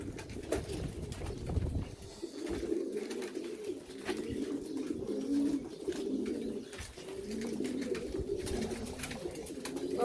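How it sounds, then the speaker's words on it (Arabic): Pigeons cooing in soft, repeated low murmurs, fairly faint and close, with light rustling and scattered background noise around them and no talk. "واحد حمامه هي هذا، خويا سامر"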